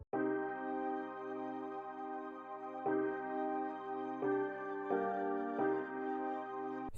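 Piano layered with the Omnisphere Angelus pad, sustained lush chords changing every second or so, smooth and continuous at moderate loudness with no voices.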